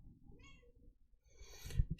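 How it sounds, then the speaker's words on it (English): A pet cat meows twice, close and fairly quiet: a short, thin first call, then a louder, rougher second one against faint room noise. "Again, this is the cat."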